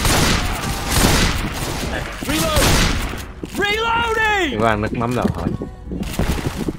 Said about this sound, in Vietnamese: Firework nè, pháo bông nè.